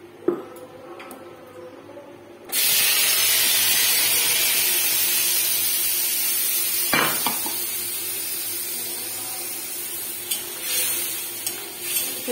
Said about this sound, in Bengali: এই পেস্ট করা মশলাটা আমি ঢেলে দেবো এর ভিতরে।